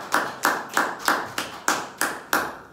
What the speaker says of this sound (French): acclamez pour la parole de Dieu